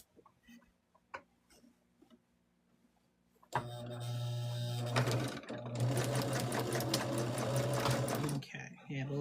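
A sewing machine stitches a quilt block, starting after a few faint ticks and clicks, then running loudly in two close bursts of rapid mechanical whirring with a short break between.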